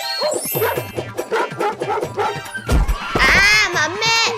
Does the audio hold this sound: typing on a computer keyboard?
no